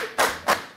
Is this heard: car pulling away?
no